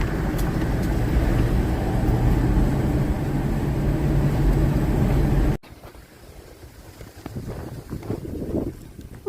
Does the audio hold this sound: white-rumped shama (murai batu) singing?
no